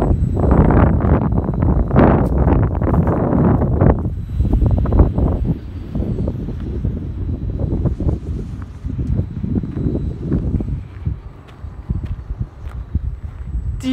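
Loud, rough wind buffeting a microphone outdoors at an Enercon E-112 wind turbine site in Dardesheim, Germany, gusting heavily at first and then easing into a steadier low roar.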